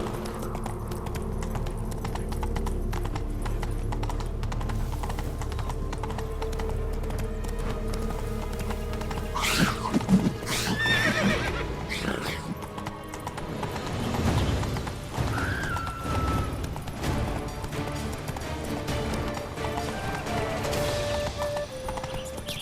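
Roach, a horse in The Witcher 3: Wild Hunt – Blood and Wine, gallops with steady clip-clopping hooves amid a busy game soundscape, broken by a brief whinny midway.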